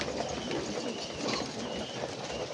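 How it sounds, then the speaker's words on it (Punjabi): A Bukhara fancy pigeon, an imported breed kept among other fancy pigeons, coos in low, soft, repeated murmurs close by against a steady background hiss. "ਇਹ ਵੀ ਬੜੀ ਪਿਆਰੀ ਅੱਛੀ ਤੇ ਬੜਾ ਜ਼ਬਰਦਸਤ ਕਬੂਤਰ ਹੈ"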